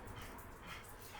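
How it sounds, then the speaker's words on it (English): A puppy growls and whimpers softly indoors, a faint, brief grumble close by under a low background hum. "He's growling now."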